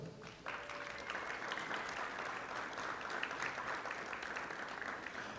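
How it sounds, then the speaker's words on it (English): An audience at a sports hall of fame ceremony in Rialto applauds steadily for several seconds, a thick, even wash of clapping heard from some distance in a large room. "Let's clap it up for him, clap it up."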